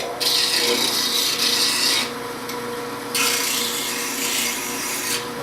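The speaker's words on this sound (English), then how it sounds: "If you got it where you want it, turn the grinder on and go ahead and sharpen it." A bench grinder sharpening a woodturning tool, harsh steady grinding in two long close bursts separated by a brief quieter stretch, no speech.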